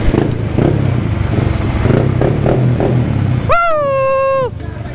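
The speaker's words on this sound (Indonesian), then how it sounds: "Sebab Jai naik motor besar" A big motorcycle engine, ridden at an RXZ member event, revs loudly and close under crowd chatter, followed by a sharp rising and falling high-pitched tonal whine near the end.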